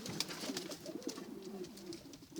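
Shami pigeons kept indoors out of the snow coo in soft, repeated throaty rolls, close by, with faint chirping and fluttering behind them and no talking.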